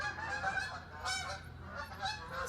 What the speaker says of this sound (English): we got ducks flying overhead